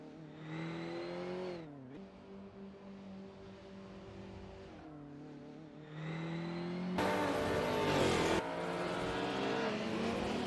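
Race car engines on a virtual track drone and shift pitch as cars accelerate, brake and pass, a continuous moderately loud roar with a harsher, brighter burst near the end and no talk.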